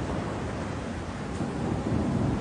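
Heavy rain pours down on a cold January night as stormy wind gusts, a dense, steady wash of noise with a deep rumbling undertone, unbroken and fairly loud with no voices.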